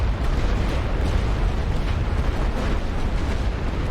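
A continuous artillery barrage in The Great War: Western Front video game, a dense, unbroken roar of overlapping explosions and booms holding at a steady loud level throughout.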